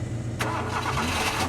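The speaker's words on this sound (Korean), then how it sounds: "어디선가 디젤 엔진 소리가 크게 들렸다." Large diesel truck and bus engines turning over and starting together in a parking garage, a loud steady rumble that swells into a rougher roar partway through, with no talking.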